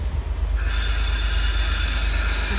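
An N class locomotive-hauled train passes close on the North Melbourne rails with a loud, sustained high wheel squeal over a heavy steady rumble.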